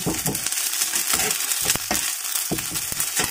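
Food sizzles and spits in hot rendered pork fat in a pan, with crackling bursts and occasional stirring scrapes, close and fairly loud, with no talking.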